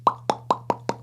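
Five quick mouth pops in an even rhythm, each a short hollow plop spaced about a fifth of a second apart, close and clear.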